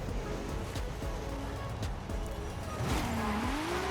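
A tuned 1997 Nissan Skyline R33 GTR launches down a drag strip in Forza Horizon 5. The engine roars loudly and continuously, with tire squeal, and the note sweeps upward as the car pulls away.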